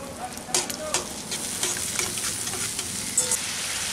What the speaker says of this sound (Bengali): সামান্য একটুখানি জল দিয়ে মশলাটাকে ভালো করে একটু কষিয়ে নেব।